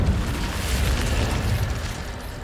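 Incendio fire spell cast in the video game Hogwarts Legacy, a dense, continuous roaring whoosh of flame with a low booming body, loud and sustained for the whole moment with no talk over it.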